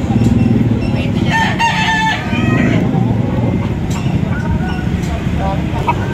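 Roosters and fowl at a rooster market in Grotto, with crowing and clucking mixed into a constant crowd din, while someone talks loudly throughout.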